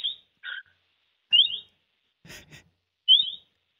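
A person whistles a nightingale imitation: several short bright trills and warbles in separate bursts, with brief pauses between phrases and a breathy noise midway.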